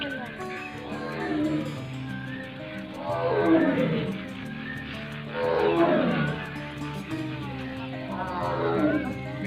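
Deep, drawn-out roars from white tigers at Delhi Zoo repeat several times, loud and close, each rising and falling in long rumbling swells with harmonic growls.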